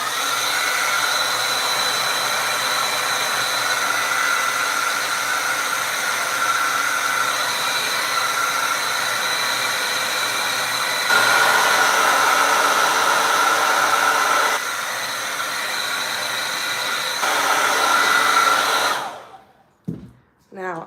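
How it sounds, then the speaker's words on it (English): A hair dryer runs steadily on acrylic paint for a cat painting, a loud, close, constant whooshing roar that shifts slightly in pitch partway through before switching off abruptly near the end. "now let's dry it."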